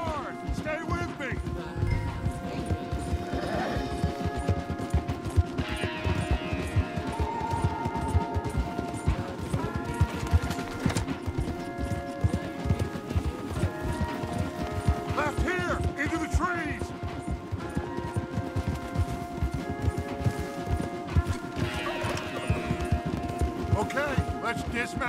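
Steady rhythmic hoofbeats of galloping horses in the video game Red Dead Redemption 2 pound continuously, mixed with a low rumble and background music.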